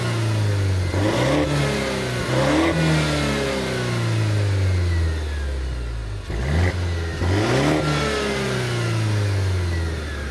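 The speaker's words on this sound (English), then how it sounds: "let's go ahead and listen to this little 4-cylinder" A 2013 Mercedes SLK 250 with a four-cylinder engine revs repeatedly, rising and falling throaty, rumbly sweeps over a steady idle, loud and close with no talking.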